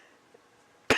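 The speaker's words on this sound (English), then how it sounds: "man, this cough." A single sharp man's cough bursts out near the end after near silence.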